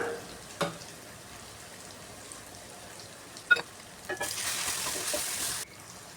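Mushrooms and spices sizzle and fry in a pan with occasional scraping stirs, then a brief louder hiss as something is added.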